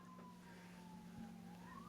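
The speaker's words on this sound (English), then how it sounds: "Is that a siren? Sounds like it." Emergency siren outside, faint and distant, with a slow wailing tone that drifts down and then rises again over a steady low hum, no voices.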